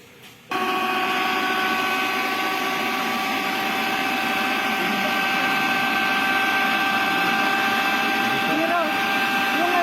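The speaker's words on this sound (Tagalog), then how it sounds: "Kaya yung TBP bago ihalo, dapat pinuhin na dun sa maliit na food processor." A small pink food processor grinds TBP, a steady loud whirring motor hum that starts abruptly and runs continuously, with faint background chatter.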